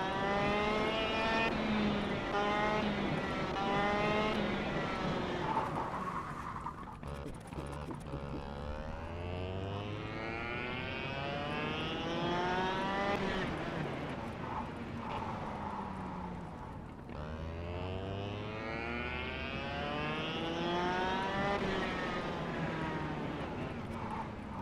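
A racing kart engine in the KartKraft game revs high and drops repeatedly, its pitch climbing in long sweeps through gear changes and braking, loud and close for the whole stretch.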